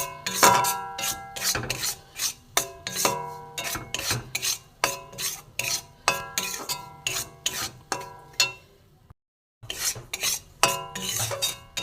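A metal spoon scrapes and stirs flour frying in a pan for a rose-shaped sweet, producing repeated clinking and rasping strokes in an uneven rhythm, close and fairly clear, with a short pause near the end.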